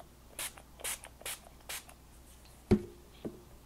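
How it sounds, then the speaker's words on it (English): Several short hissing bursts from a spray stain can, evenly spaced, followed by a couple of soft knocks or clicks near the end. "I'm going to use a few spray stains."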